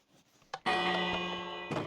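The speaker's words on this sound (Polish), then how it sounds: "dzwonię tym dzwonkiem" A single bright train-station bell in Minecraft rings out and sustains with a long ringing decay, preceded by a couple of soft clicks, in a quiet game setting.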